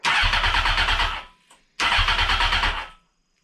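A Honda CBR900RR Fireblade motorcycle engine cranks over on the starter with no fuel in it, giving two loud, close bursts of steady rhythmic churning about a second apart, neither of which catches.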